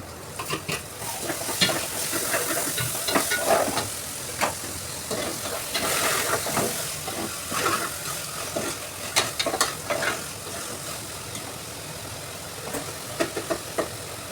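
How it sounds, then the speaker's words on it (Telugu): Chicken pieces pre-mixed with salt, chilli and turmeric go into a hot biryani pot, setting off a steady close sizzle with scattered stirring scrapes and clatters, with no talk. "ఇంకా చికెన్ వేసేస్తున్నాను."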